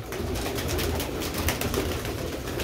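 Sialkoti pearl-spotted pigeons coo continuously and close by, a soft layered murmur of several birds with repeated throaty pulses and no talking.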